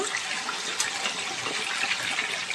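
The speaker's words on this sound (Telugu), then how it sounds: "ఆయిల్ బాగా కాగింది ఇప్పుడైతే నేను చికెన్ వేసుకుంటున్నాను అందులో" Cooked country chicken pieces going into hot oil for a pickle, giving a steady, loud, broadband hiss and sizzle that carries on without a break, with no voices over it.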